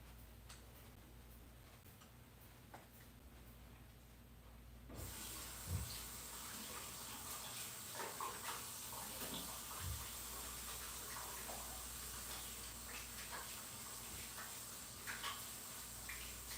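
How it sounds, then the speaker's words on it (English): After a quiet start, a kitchen tap begins running for hand washing, a steady, fairly close water stream with small splashes and knocks from the sink. "I'm going to go back, wash my hands."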